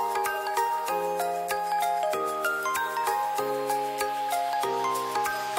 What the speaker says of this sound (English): Trying to make the gong resonate?